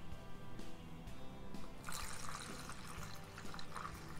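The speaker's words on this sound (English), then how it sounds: "So I am going to add my 300 millilitres of water." Three hundred millilitres of water poured all at once into flour for bread rolls, heard as a quiet, close splashing pour under faint kitchen background.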